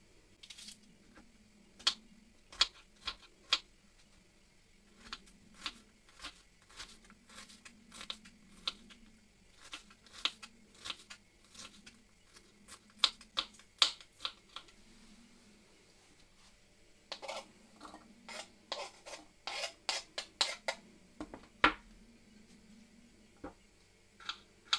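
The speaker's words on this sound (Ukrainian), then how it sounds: "Далі цибулю нарізаємо кубиками." Knife chopping onion into small cubes on a cutting board for a pea and mushroom soup, a steady run of sharp, quick taps in bursts with short pauses, close and fairly quiet, with no talk.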